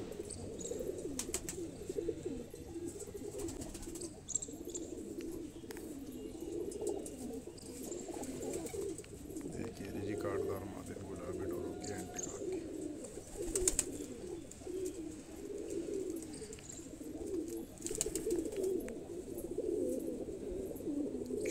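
A flock of Kalseere Madrasi pigeons, hens kept in pairs, coo together in soft overlapping rolling calls with occasional chirps from nearby birds, continuous and moderately close, with no speech.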